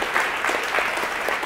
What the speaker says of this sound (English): Round of applause for Roger Killen, my co-organizer for this event